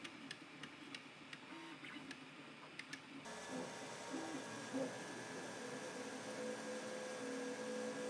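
An Artillery Genius 3D printer printing custom LEGO tires hums steadily with soft mechanical whirring and faint ticks, a low continuous machine sound with no voices.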